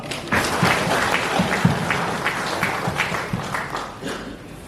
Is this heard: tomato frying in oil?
no